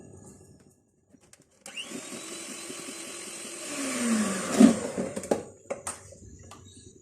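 An electric mixer whirs steadily while beating eggs with caster sugar for a chocolate cake batter. It starts after a quiet moment, rises in pitch and loudness, and then gives way to scattered clinks and knocks.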